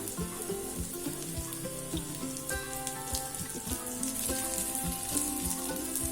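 Raw plantain slices fry in oil in a pan with masala, giving off a dense, continuous crackle and patter of popping oil, close and steady without a break.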